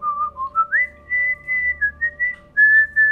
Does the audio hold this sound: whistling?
yes